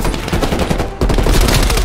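Gunfire in the video game Call of Duty: Black Ops Cold War, loud rapid bursts of automatic shots that break briefly and then resume, heard alone without talk.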